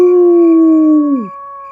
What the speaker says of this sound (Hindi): रात के 2 बज रहे, दूर कुत्ते बोलते ओ